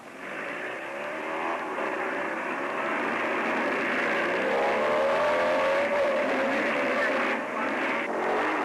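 Motorcycles racing in the 1957 Catalina Grand Prix on Catalina Island: a continuous roaring engine drone with rising and falling pitch as bikes speed along the course, with a voice over it.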